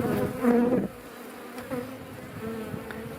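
Honeybees hum around an opened hive with sealed brood, a close, rough buzz that swells loudly at first then settles into a softer steady drone.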